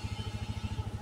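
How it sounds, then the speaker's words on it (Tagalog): A motorcycle engine runs nearby with a steady, rapid pulsing throb for about a second, heard alone without voices. "Ibang motor na naman to, Pong."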